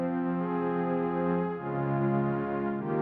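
Soft, sustained synth pad built from Juno wavetables in Serum, with slightly detuned, analog-like warmth, holding one chord then moving to another, played alone at moderate volume.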